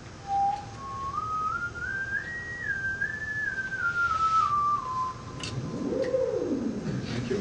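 Ondes Martenot played by hand, a pure whistle-like tone gliding smoothly up in steps and back down, fairly soft over a faint room hiss, with a lower swooping tone appearing near the end.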